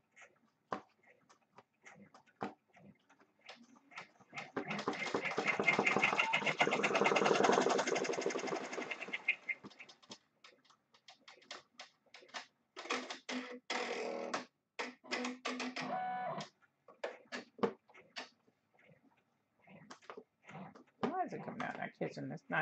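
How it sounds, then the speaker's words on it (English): An embroidery machine runs a steady, busy mechanical stitching burst as it sews red then black thread, loudest for several seconds before giving way to sporadic clicks and handling noises while a person talks. "it's going to stitch my thread color number 3, which is red, and then my thread color number 5, which is black"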